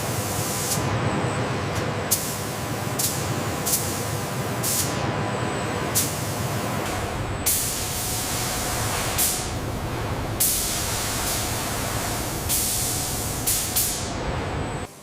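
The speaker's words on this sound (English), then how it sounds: "Electrostatic robots spray the white base coat to create a smooth, durable train surface." Electrostatic robots spraying white base coat onto an aluminum train car body make a steady loud hiss of spray, broken by regular brief pauses and clicks as the guns cycle, with no talk.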